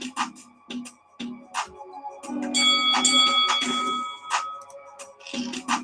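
A bright notification bell chimes with sustained ringing tones through the middle of the stretch, set among other short electronic sound effects and blips.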